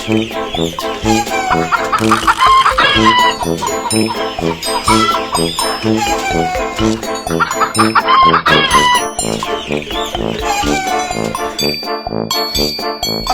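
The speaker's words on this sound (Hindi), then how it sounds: "इस ब्रीड का नाम ब्लैक ऑस्ट्रेलोप है" Black Australorp chickens cluck steadily in a dense, loud flock, with a couple of roosters crowing clearly over the chatter; no one talks.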